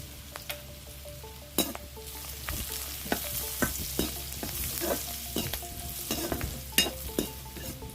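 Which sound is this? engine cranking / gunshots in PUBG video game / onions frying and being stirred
onions frying and being stirred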